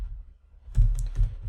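Computer keyboard keys are struck in a quick cluster of close clicks, ending with an Enter press, after a brief quiet pause at the start.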